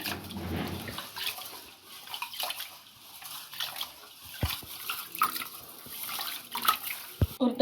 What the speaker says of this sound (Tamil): நல்லா கழுவிட்டு இப்போ தண்ணி ஊற்றி ஊறட்டும் கொஞ்சம் நேரம் நம்மளுக்கு இந்த அரிசி.